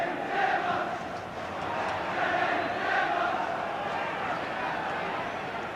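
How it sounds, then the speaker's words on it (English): A large football crowd on the Kop at Anfield roars and cheers in steady waves during a 1982 Liverpool versus Ipswich Town match, heard from a distance. "But Terry McDermott giving the Kop plenty to cheer about."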